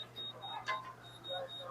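Short electronic beeps chirp repeatedly, thin and fairly quiet, over low background noise during a Narwhals game, with faint speech mixed in.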